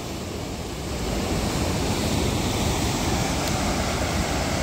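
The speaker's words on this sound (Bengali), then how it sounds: "এই যে প্রচণ্ড গতিতে এখান দিয়ে জল বেরোচ্ছে।" Water rushes at high speed out of the Massanjore dam, a loud, continuous roar of broadband noise that swells after the first second and holds steady, with no voices over it.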